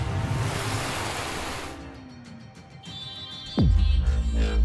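Water splash effect for a sword attack: a broad rushing wash of surging water, then a quick sweeping whoosh that drops into a deep, loud impact rumble near the end.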